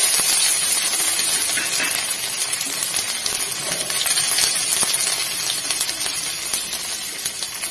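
Ginger sizzles in hot oil for a gourd curry, with a loud, crackly frying hiss full of small pops that runs steadily throughout and fades slightly toward the end.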